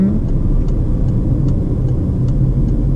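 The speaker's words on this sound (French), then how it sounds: "Je rétrograde, 4e." Steady low engine rumble from a car slowing on a road during a commented driving-test route near Laval, the engine dropping into fourth gear, heard close and continuous with no speech.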